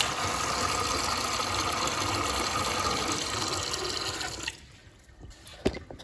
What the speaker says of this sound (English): and we got water.